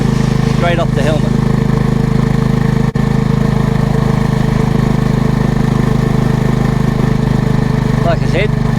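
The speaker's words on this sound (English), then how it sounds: "I'm running one at the rear of the bike to capture the exhaust" A motorcycle engine runs steadily and loudly throughout a ride on a cool, breezy day, with a brief dip in sound near the three-second mark; no speech is heard.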